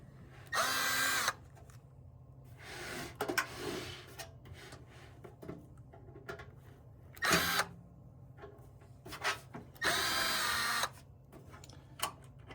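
Screws being removed from the back and sides of a CCTV DVR unit with a power drill or driver, sounding in several short whirring bursts separated by quieter handling noise, fairly close.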